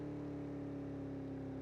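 A car engine in a video game drones steadily with a constant low tonal hum and no pauses, moderately loud throughout.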